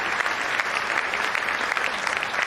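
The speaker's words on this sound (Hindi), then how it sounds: "एक बार जोरदार तालियां बजा के ज्ञानी बरानी को आश्वस्त कीजिए" A large crowd at a Hindi comic poetry gathering in Ayodhya breaks into loud, dense applause that holds as a steady, continuous roar of clapping throughout, with no voices heard.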